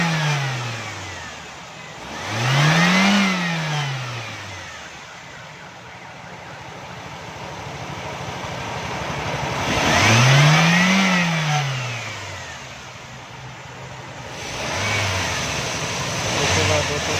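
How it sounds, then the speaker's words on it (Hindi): A tuned 1996 Xe car engine revs up twice with rising and falling sweeps, then settles to a steady idle between pulls, heard close with no talking. "इंजन की साउंड बिल्कुल माशाल्लाह सही है, इंजन बिल्कुल स्मूथ है।"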